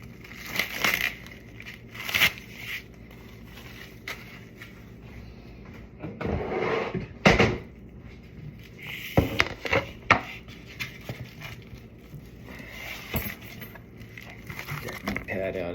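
Packaged pork belly being pulled out and unwrapped, with crinkling plastic, rustling and several sharp handling knocks in bursts, close by, while someone talks.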